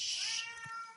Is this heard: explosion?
no